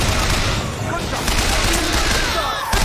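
A dense, continuous burst of gunfire and explosions fills the whole stretch in the Bioshock Infinite video game, with alternate fire in use, loud and busy, with a player's voice mixed in.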